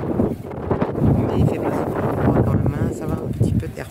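Strong wind in San Marino buffeting the microphone in a low, rumbling roar that persists throughout, with a person talking over it.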